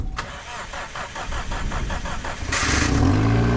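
A BMW E46 car engine cranks with a rhythmic, repeating starter whir for about two seconds, then catches and fires into a steady, louder idle. No voices are heard.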